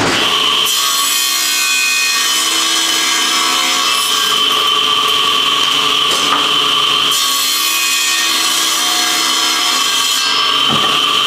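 A power saw trimming and squaring a wood board for a cutting board, cutting loudly and continuously with a whining, rasping tone that dips briefly between passes.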